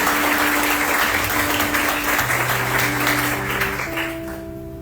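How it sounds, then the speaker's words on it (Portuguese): Sustained applause from a church congregation at an evangelical service, dense and steady throughout, with sustained musical tones from an organ or keyboard underneath and the clapping easing slightly toward the end. "dê uma salva de palmas, porque Ele é o único merecedor"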